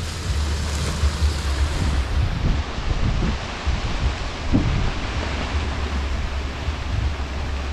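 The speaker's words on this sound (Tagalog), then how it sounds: "Parang binabayo ang hangin na yun." Strong wind roars steadily and close in an outdoor field during a sweet potato and banana harvest, a broad continuous rush with heavy low rumble and gusty swells, no voices.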